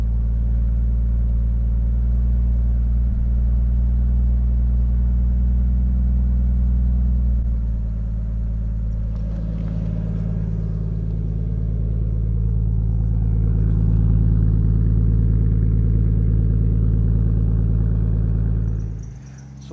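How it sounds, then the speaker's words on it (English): A Toyota Supra engine idles steadily while warming up, a loud, continuous low rumble with a slight shift in pitch partway through, running alone until it cuts off at the end. "right now we're getting the car warmed up, getting it ready"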